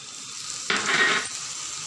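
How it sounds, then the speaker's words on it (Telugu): Chopped spring onions and tomatoes fry uncovered in a pan, a steady hiss of sizzling that swells briefly louder as the mix is stirred, then settles back to a constant crackle. "ఒకసారి ఇలాగా ఫ్రై చేసి మూత పెట్టకుండా ఒక 2 మినిట్స్ అలాగే వేగనివ్వాలి."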